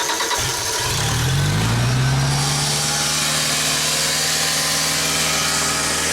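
A Genie aerial work platform lift's engine cranks briefly, catches and rises to a loud, steady running drone close by, with no talk.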